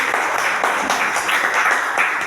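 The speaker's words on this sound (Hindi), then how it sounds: "मैं चाहूंगा डायमंड रैंक के लिए जोरदार ताली होनी चाहिए" Loud, dense applause from a seminar audience celebrating a Diamond rank, a steady wash of many hands clapping that holds at an even level throughout.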